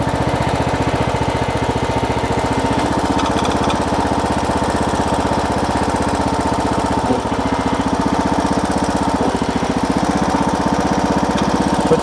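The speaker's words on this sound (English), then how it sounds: "Then we're gonna start your mower. Start driving ahead." A riding lawn mower engine runs steadily and loud while the mower is driven, a close continuous rough drone with a fast pulsing chug and no break.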